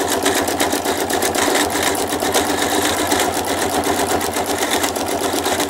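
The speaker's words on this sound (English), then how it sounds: "The poor old machine's making lots of noises today." An old sewing machine runs steadily while free-motion stitching decorative quilting, a loud continuous mechanical whirr with rapid needle chatter throughout.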